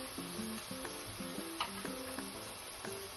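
Thin-sliced onion frying in ghee for ghee rice, giving a faint, even sizzle with scattered light clicks and taps of a utensil against the pan.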